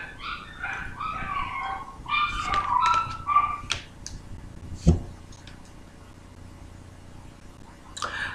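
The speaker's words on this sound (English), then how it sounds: "there are some hound dogs crying a weird noise outside of my window" Hound dogs outside a window howl and whine in wavering tones at a distance while a siren sounds, a few sharp yips following, then quieter background.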